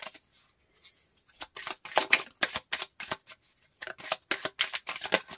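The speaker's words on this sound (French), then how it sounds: "le jeu s'est explosé. Je vais mettre sur pause pour rattraper les cartes" Tarot cards spill from a deck and are gathered back up by hand, giving a quick run of crisp papery slaps and riffling clatters in bursts, close and fairly loud, with no talking.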